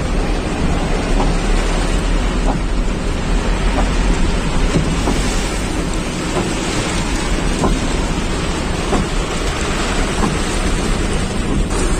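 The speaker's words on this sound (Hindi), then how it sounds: "मौजूदा बारिश भी आप देख सकते हैं।" Heavy rain pours down on a road in a loud, continuous downpour, with low thunder rumbling beneath the steady hiss throughout.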